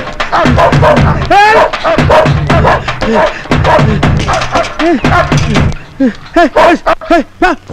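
Dogs bark in sharp repeated bursts while chasing a man in a Tamil comedy scene, loud and close, mixed with people shouting and talking.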